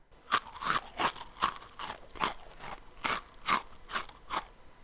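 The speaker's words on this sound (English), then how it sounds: "A loud crunch comes from the corner of the dog's shed" A dog eating produces a loud crunch sound effect as about ten sharp, evenly spaced bites and cracks over several seconds, close and dry, with no talking.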